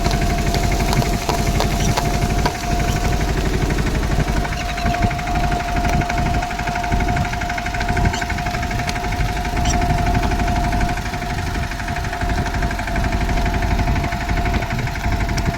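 A tractor engine drones steadily at close range during sowing, a loud continuous rumble with a faint tonal whine and occasional knocks, with no voices.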